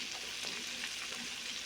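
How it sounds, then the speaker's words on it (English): Pork chops sizzle in a hot pan, a close, continuous crackling hiss with small pops and no talking. "But you hear this sizzle over here."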